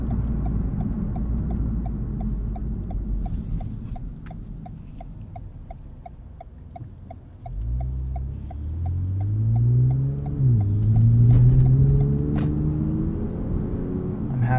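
Interior of a 2020 Toyota Avalon TRD on 19-inch wheels while driving: a steady low road and wind rumble fills the cabin, with a faint regular ticking throughout and a rising engine tone swelling in the second half.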